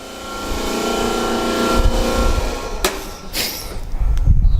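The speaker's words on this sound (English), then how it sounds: "This is a 1JZ running a Tomei turbo." Car with a Toyota 1JZ engine and Tomei turbo idling loud and close, a rough droning rumble with a steady whine that builds and then dips, broken by a sharp metallic click before a deep low burble returns.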